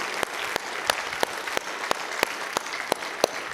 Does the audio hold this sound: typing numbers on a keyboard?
no